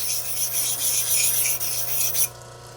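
Steady abrasive grinding of a jade piece being shaped into a shallow dome, a continuous close rasp over a low machine hum that stops abruptly near the end.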